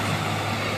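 A fire truck shuttling water to a large blaze in an industrial area of Cikarang rumbles past with a loud, steady low engine drone and a constant broadband roar, close by, with no speech.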